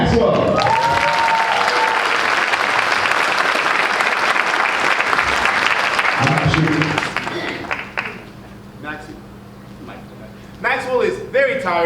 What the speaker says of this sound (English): Round of applause for Mr. Maxwell.